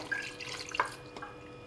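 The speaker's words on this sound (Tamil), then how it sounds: "ஒரு பாதி கப் மட்டும் தண்ணி ஆட் பண்ணிக்கிறேன்" Half a cup of water poured into mutton masala in a pan for chukka fry, a short trickle and a few splashing drips, fairly quiet and close.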